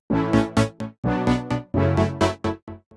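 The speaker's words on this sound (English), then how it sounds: "The main character from the drop comes from these two synths." Two layered synths, one of them sidechained, play a bright stacked chord stabs in a pumping rhythm, each hit swelling and cutting off in short bursts for a summer dance drop, loud and alone.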